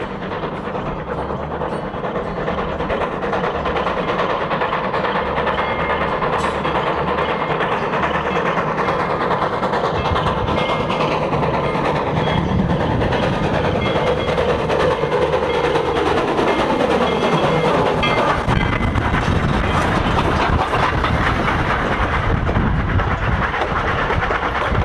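A heavy train on the Durango & Silverton line, double-headed by two steam locomotives pulling 15 cars, rumbles steadily nearby into Silverton station, engines droning with clanking and rising squeals, loud and continuous with no talking.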